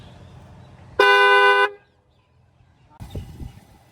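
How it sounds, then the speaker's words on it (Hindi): A single loud car horn honk from a Volkswagen Taigun GT blares for under a second, followed by a pause and then low rumbling and handling noise. "अभी एक बार मैं आपको हॉर्न की आवाज सुनाता हूँ"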